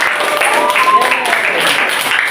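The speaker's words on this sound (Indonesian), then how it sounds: "Beri tepuk tangan untuk kelompok 1." A classroom of students applauds a presenting group, with steady, moderately loud clapping filling the room and a few voices and a faint whistle-like tone mixed in.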